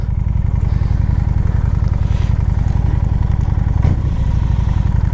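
A Honda Shadow 750 motorcycle engine pulls steadily and loudly on an on-ramp, with a continuous throbbing drone and a brief shift or clatter near the end.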